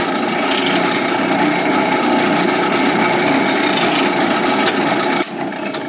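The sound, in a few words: drill press drilling Stratocaster neck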